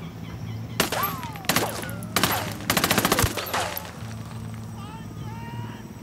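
Submachine gun fire in Ghost Recon Wildlands comes in four close, loud bursts of rapid shots, the last the densest, with bird calls and faint background ambience in between.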